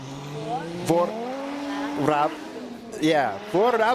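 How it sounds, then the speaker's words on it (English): A Russian Lada drift car revs hard on a racing circuit, its engine note rising and falling in repeated sweeps with sharp bursts, while a commentator talks over it. "So this is the Russian Lada."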